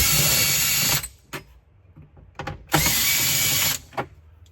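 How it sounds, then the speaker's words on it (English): A power driver fitted with a T40 bit backs out screws from trim around a Polaris Ride Command display, two loud sustained whirring bursts with brief clicks and knocks between them, close and alone. "I'm going to use a T40 and remove some of these screws"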